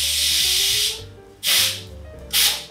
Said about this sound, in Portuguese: Como é que vocês tiram a pressão da panela? Eu ponho o garfo.